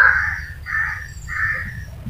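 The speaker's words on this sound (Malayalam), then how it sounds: "കാക്ക അടുത്താണ്" A crow caws three times from nearby, loud harsh calls spaced evenly over a low steady background hum, with no voices.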